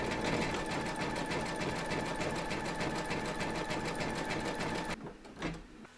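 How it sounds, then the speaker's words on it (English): A machine-embroidery run stitches a satin stitch border around the edge of an in-the-hoop glasses case. It makes a loud, steady rapid whirring for about five seconds and then stops, leaving a quiet room with a faint thump. "Load your matching bobbin and thread colour for the satin stitch border around the edge of your case into your machine, and then stitch round number 5."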